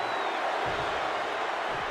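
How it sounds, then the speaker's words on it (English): A large wrestling arena crowd at WrestleMania roars in a dense, continuous wash of voices aimed at the winning champions, loud and unbroken throughout. "this crowd is giving them hell for it"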